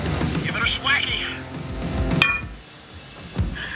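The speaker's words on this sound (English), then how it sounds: "hit that with a hammer. Right on the end of that point, one good swack." A hammer strikes the end of a point in one sharp metallic clink partway through, with people talking loudly before and after it.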